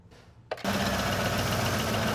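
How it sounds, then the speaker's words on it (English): A Ford F-150 engine cranks briefly and catches, then settles into a steady, loud idle close by. "now we're gonna go ahead and start our vehicle"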